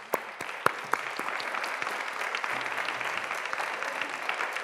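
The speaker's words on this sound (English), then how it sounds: "So please give me, stand up with me in that active applause and help me welcome Wesley." A standing audience at a childhood obesity community summit applauds steadily to welcome a speaker, a dense wash of clapping with a few sharp louder claps near the start, continuing evenly throughout.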